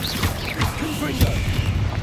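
Explosive blasts from the Confringo blasting spell in the video game Hogwarts Legacy boom and crash in quick succession, loud and close, over a dense rumbling battle din.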